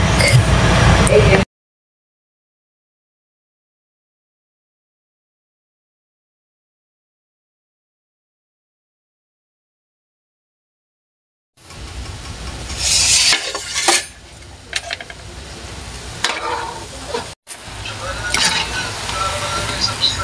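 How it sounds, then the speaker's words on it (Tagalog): Battered quail eggs, kwek-kwek, are dropped into hot oil and deep-fry with a bright sizzle and bubbling that starts suddenly after a long silence and continues fairly loudly, with a brief break near the end. "dahil mainit na po ang ating mantika, ilagay na po natin ang ating kwek-kwek"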